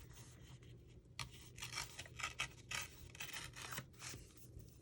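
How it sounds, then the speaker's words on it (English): Paper is torn a little shorter in a vintage paper-crafting project, a quiet close series of rough ripping and rustling bursts with brief pauses between pulls. "I'll tear this just a little shorter"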